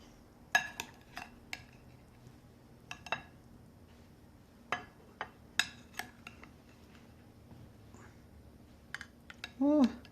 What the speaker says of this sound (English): I'm gonna spoon up a couple, put them on a plate, and taste.